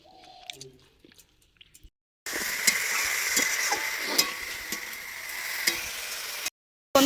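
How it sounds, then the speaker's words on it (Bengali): Leafy greens fry and get stirred in a pan, giving a steady sizzling hiss with scattered stirring clicks through the middle of the clip, after a quieter start with faint clatter. "শাক ভাজা কমপ্লিট হয়ে গেছে"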